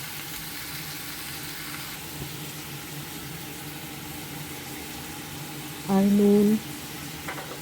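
Chopped green tomatoes fry in a pan with a soft, continuous sizzle and hiss, and a voice briefly speaks a few words near the end.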